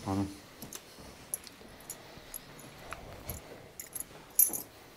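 Metal hotel room keys, a large old-style key meant to be left at reception, jangle and click in a few light bursts. The sounds are faint and close, spread across a quiet room.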